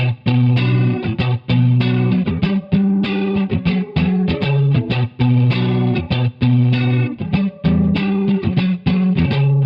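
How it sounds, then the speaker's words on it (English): Electric guitar through Dimension and Univibe pedals, a rhythmic run of choppy, slightly distorted chords with a swirling chorus-like shimmer, loud and close with brief gaps between strums, alone. "I think I'm using the Dimension and the Univibe pedal,"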